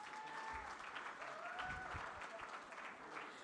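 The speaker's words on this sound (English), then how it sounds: "A round of applause again, please." Audience applause after a panel discussion at the G20 Interfaith Forum, a soft, even patter of many hands sounding faint and distant throughout, with a few thin tones above.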